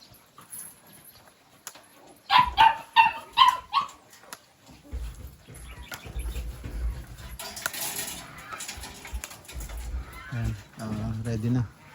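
Several dogs bark in a quick burst of sharp yips, then whimper and grumble amid shuffling and background voices, fairly close.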